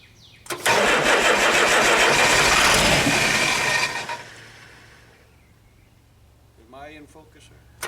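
An old puller engine starts for the first time, cranking briefly and then firing into a loud, rough run for about three seconds before dying away. A voice speaks faintly near the end.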